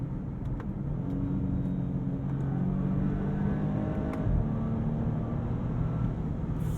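From inside a 2022 Bentley Flying Spur Hybrid, a low, steady engine and road drone builds gently as the car accelerates, with faint tonal whine layered in and no speech.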